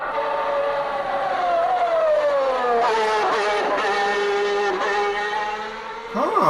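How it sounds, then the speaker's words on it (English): Ayrton Senna's Formula 1 car at Monza screams through a corner with rapid on-off throttle blips, the engine note rising and dipping in quick jagged steps, loud and sustained, with a sharp rise at the end. "you can clearly hear this blipping of the accelerator as he's driving through the corner"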